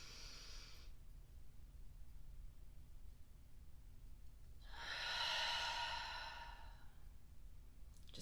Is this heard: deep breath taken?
yes